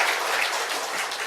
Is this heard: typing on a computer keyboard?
no